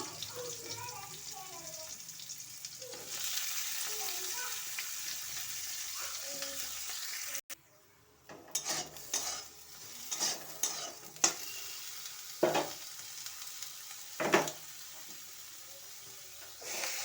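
Eggplant pieces fry in a wok with dry red chilies, five-spice seeds and chopped garlic. A voice talks over a soft sizzle, then a spatula stirs and scrapes the pan in irregular bursts.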